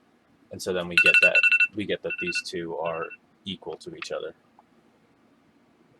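A mobile phone rings in short electronic bursts during a physics recitation, sounding under continuous nearby speech.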